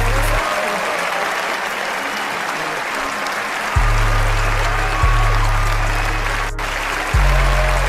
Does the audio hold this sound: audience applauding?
yes